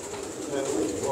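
Fancy pigeons, including Ferozpuri breeds, coo in a loft: a soft, low, murmuring coo that sounds close and continuous, with faint background voices.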